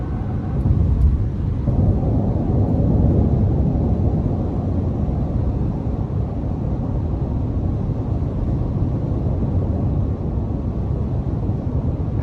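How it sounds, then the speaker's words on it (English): A Ford F-150 Lightning Pro electric pickup picks up speed under light throttle, heard from inside as a steady low rumble of road and wind noise with no engine note, fairly loud and even throughout. "We'll give it some throttle here. Just a little bit. Still extremely peppy."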